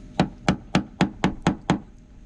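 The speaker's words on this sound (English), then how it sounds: "And now we're having to try and use a hammer to get into it" A hammer strikes a stripped, stuck fuel cap on a boat: seven sharp, evenly spaced metallic-wooden knocks, close and loud, in steady rhythm with no talking.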